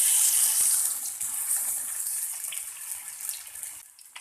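Fish sizzling as it goes into hot oil on a tava, a loud bright crackling hiss that starts strong and gradually settles into a steadier, softer fry.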